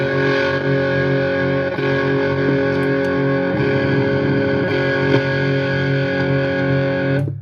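Guitar run through an Audiostorm Volume Fink overdrive pedal set to full drive, a loud, dense, fuzzy distorted tone with sustained chords and no pauses.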